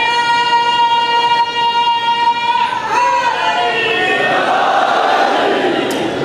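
A large crowd at a Shia religious gathering for Imam Hassan chants slogans (naara). A single voice first holds long tonal notes, then a loud, close mass of voices roars together and keeps going.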